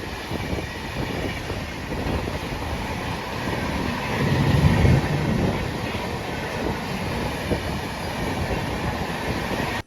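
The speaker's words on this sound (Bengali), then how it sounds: "এবার আসছে হচ্ছে 123-01 হাওড়া নিউ দিল্লি রাজধানী এক্সপ্রেস।" The Howrah-New Delhi Rajdhani Express rolls past with a steady, loud rumble and rhythmic wheel clatter on the rails, swelling slightly midway as the coaches go by close at hand.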